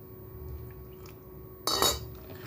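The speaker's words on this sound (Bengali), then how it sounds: "দুধ দিয়ে দিয়ে এটাকে একটু ভারী ভারী করে আমি গুলে নেব।" Cake batter mixed by hand with milk in a bowl, a brief clinking scrape of a utensil against the dish after quiet stirring, faint and close.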